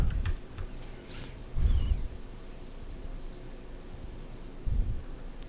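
Computer mouse clicks while rolling need on loot in World of Warcraft, a few sparse sharp clicks, faint and close, spaced irregularly, with no talking.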